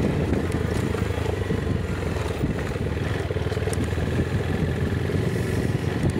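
A motorcycle engine runs in a steady, loud, continuous rumble, heard close with no talk.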